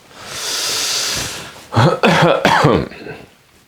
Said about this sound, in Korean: 기침은 없는 걸로 좀 간주를 해주시고